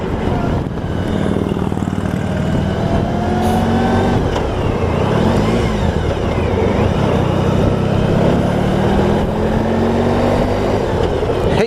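A 1994 Honda ST1100 motorcycle engine revs up after a missed gear slips into neutral, a loud close engine surge over road and wind rush, rising and falling in pitch before settling.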